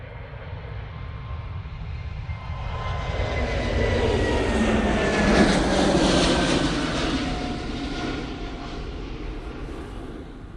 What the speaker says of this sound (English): departed now, we have the Lufthansa City A320 Neo going to Munich